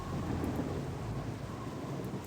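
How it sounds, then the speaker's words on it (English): Rain and thunder in the Baldur's Gate: Enhanced Edition video game, a steady hiss of rainfall under a low rolling rumble, continuous and fairly loud, with no talking. "I do love how it's all rainy as we get here."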